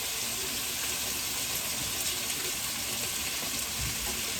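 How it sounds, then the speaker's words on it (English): Water runs steadily from a kitchen tap while hands are rinsed during cabbage cooking, a continuous close hiss and gush without pause. "Rinse off my hands there."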